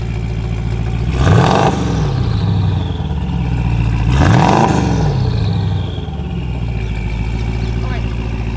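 An Aznom Palladium hyper SUV with a 5.7 litre biturbo V8 rumbles nearby and rises in two strong revs before settling back to a deep, steady idle.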